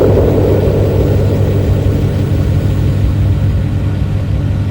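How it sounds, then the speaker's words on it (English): A Lexus ES with an all-aluminum alloy engine runs in a steady, loud, low rumble close by, an even idling drone holding for several seconds with no speech. "The powerful all-aluminum alloy engine in the Lexus ES is so incredibly quiet."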